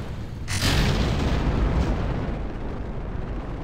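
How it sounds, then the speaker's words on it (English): A single deep explosion boom from the video game Kerbal Space Program bursts out, followed by a rumbling roar that lingers and slowly fades. "now there are explosions, but those are carefully controlled explosions"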